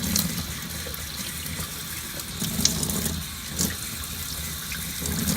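Water from a tap runs steadily onto an old American Girl doll's hair to wet it, a continuous close splashing rush with small spatters and no talking.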